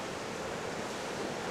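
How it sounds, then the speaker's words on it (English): Ocean surf breaks along the shore at a reef on Madeira, a steady, broad roar of crashing waves with no talking. "oh, nice waves."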